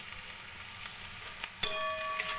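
Ginger and garlic land in hot oil with already reddish-fried onions, making a soft, steady sizzle with a few light clicks, then a sharper utensil clink and brighter crackle near the end.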